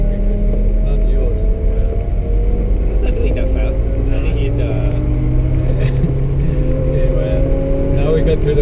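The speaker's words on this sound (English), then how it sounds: "Oh, there's a fast Porsche coming. It's a GT2 ring taxi. GT3 RS." A fast Porsche GT3 RS ring taxi passes on the Nordschleife, its steady engine drone rising in pitch as it nears. The engine stays loud under a constant low rumble, with people talking over it.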